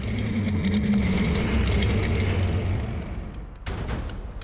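A 1990s Kawasaki ZX-7R sport motorcycle at speed: a sustained loud engine roar with a steady tonal drone, easing and shifting briefly near the end as the rider changes pace.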